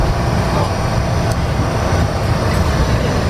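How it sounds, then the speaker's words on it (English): A wine train heading toward vineyards rolls along its rails with a steady, loud rumble and rocking rattle that runs unbroken and close throughout, with no talk. "the wine train is a little rocky"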